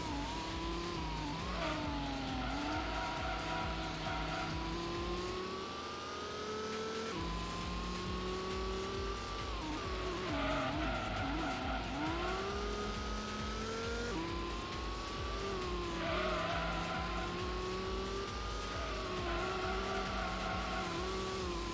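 A race car engine in Gran Turismo drones loud and continuous, pitch rising and falling through gear changes and cornering, with tire squeal as the understeering car slides through bends.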